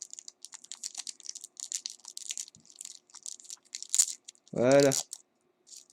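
A trading card booster pack is torn open at its tab with a few faint crinkly plastic crackles and small clicks close by, and a short spoken word follows.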